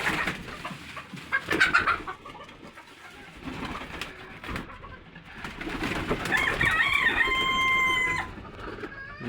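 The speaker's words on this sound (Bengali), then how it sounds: "মুরগিগুলো আজকে ছাড়তে দেরি হওয়াতে কি চেঁচামেচি শুরু করে দিয়েছে" Rooftop chickens clamour restlessly while kept in late, with bursts of clucking and squawking and a rooster crowing clearly near the end, loud and close.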